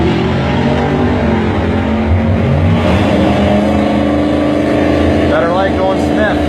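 Drag race cars, a 69 Chevelle and a 79 Camaro, roar at the strip, loud sustained engine tones rising and shifting in pitch, with an announcer's voice underneath.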